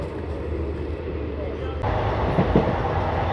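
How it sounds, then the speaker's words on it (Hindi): Passenger train 14526, running between Shri Ganganagar and Ambala Cantt, rumbles steadily along the rails from inside a chair car coach, with a continuous low roar that grows louder partway through and faint clattering over the wheels. "ट्रेन की बात की जाए तो ट्रेन काफ़ी बढ़िया चल रही है"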